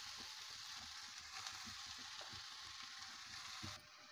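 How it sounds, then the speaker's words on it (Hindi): Grated carrot frying in hot ghee in a kadhai, a steady close sizzle with faint crackles and occasional stirring, dropping in loudness near the end. "घी गर्म हो गया है, कद्दूकस किया हुआ गाजर इसमें डाल देते हैं"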